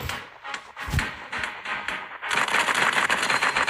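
Gunfire in the mobile shooter game Cover Fire: rapid bursts of synthetic shots and clatter, loud and continuous, thickening into sustained automatic fire near the end, with no talk.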